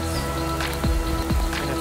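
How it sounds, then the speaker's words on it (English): Rain falls steadily at a campsite in June, a soft continuous patter close by, with a couple of brief thuds or squishes cutting through. "you can see it's raining"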